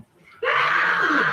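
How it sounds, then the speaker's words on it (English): A man lets out a loud, sustained scream that bursts in after a moment of near quiet and holds strongly for about a second. "The way he screams."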